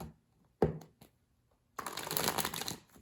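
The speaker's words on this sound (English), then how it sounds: "I'm shuffling the Goddess Inspiration Oracle" Quick riffling shuffles of oracle cards, a short flick of cards followed by a longer continuous riffle, close and moderately loud with no talking.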